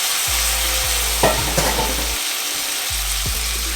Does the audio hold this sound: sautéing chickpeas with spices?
yes